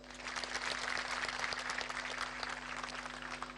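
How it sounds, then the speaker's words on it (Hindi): An audience at an industrial site gathering breaks into brief applause, a dense patter of many hands clapping at moderate distance over a low steady hum, fading slightly toward the end. "उनके लिए एक बार ताली बजाओ।"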